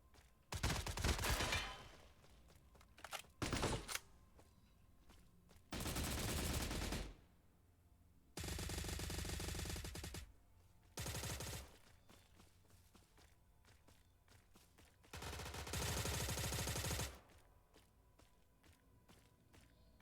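Video-game gunfire comes in five or six loud bursts of rapid automatic shots, each lasting one to two seconds and separated by short quiet pauses.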